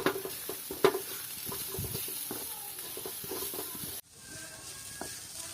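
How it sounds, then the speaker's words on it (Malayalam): A spoon stirs chicken masala seasoned with coriander powder and garam masala in a pan, with steady sizzling and irregular scraping knocks that cut off abruptly into a quieter simmering hiss. "ഇതൊക്കെ ഇട്ടിട്ട് നന്നായിട്ട് ഒന്നുകൂടെ നമുക്ക് ഇളക്കി കൊടുക്കാം"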